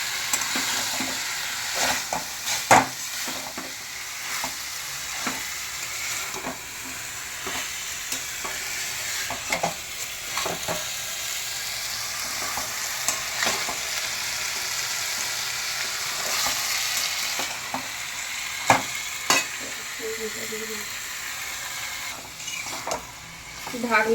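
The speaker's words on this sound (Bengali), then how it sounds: "নেড়ে নেব।" Banana flower and chicken being stirred in a frying pan, a steady sizzle with repeated scraping clicks of the spatula throughout.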